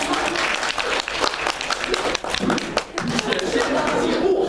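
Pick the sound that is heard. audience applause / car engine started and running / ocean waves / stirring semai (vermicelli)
audience applause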